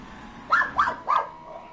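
A dog gives three quick barks in a row at moderate distance, fairly soft over a low background hum, with no talking.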